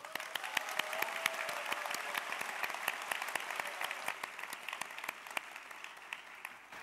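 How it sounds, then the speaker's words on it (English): A college assembly crowd gives a round of applause, many hands clapping steadily at moderate distance for several seconds, with individual sharper claps standing out against the wash. "Here's a big round of applause to congratulate the class of 2018."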